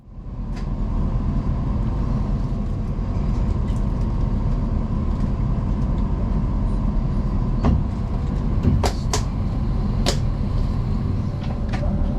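A London Northwestern Railway train departing Euston, heard from inside as a steady low rumble of wheels and carriage, with occasional clicks and rattles over the track joints.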